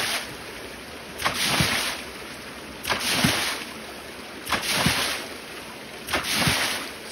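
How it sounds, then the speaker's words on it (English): A Bunyip water pump runs steadily on an off-grid farm or homestead water setup, with a constant whirring hum and a pulsing surge roughly every second and a half, close and moderately loud. "So we turn it on, we just simply fire up the pump, keep filling,"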